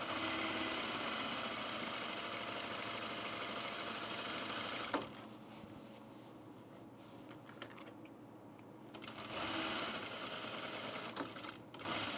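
A sewing machine stitching a long seam on an unlined auburn blazer, running in a steady rapid whir, stopping briefly midway with quieter handling sounds, then starting up again near the end.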